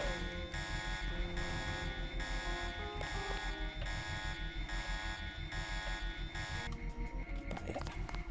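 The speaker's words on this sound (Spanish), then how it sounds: "¿Qué, va a durar mucho la alarma o qué?" An electronic alarm blares continuously in Deus Ex (2000) after a broken window sets it off. The sound is a steady, harsh buzzing tone, pulsing in a regular rhythm, with faint game noises beneath it near the end.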